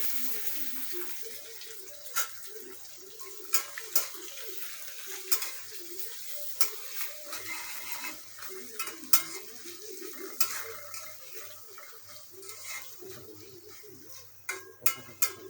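Onions with bay leaves, cinnamon and cardamom frying in a pan for a chicken and potato curry, a soft low sizzle broken by repeated clinks and scrapes of a spoon stirring against the pan.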